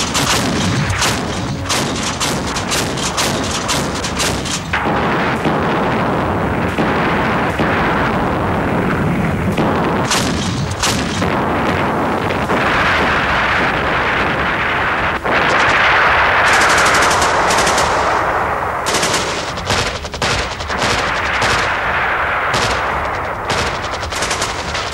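War-film battle scene of artillery and machine gun fire: loud, continuous bursts of rapid gunfire and booming blasts layered densely throughout, with sharp cracks punctuating a roaring barrage.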